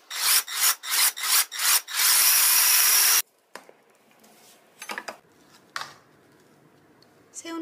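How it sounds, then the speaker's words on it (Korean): A food chopper mincing shrimp whirs in six short buzzing pulses, then runs in one longer burst, followed by quiet clinks and handling noises. "새우는 식감 좋으라고 칼로 다져서 사용하는데 이렇게 다지기에 넣어서 다져줘도"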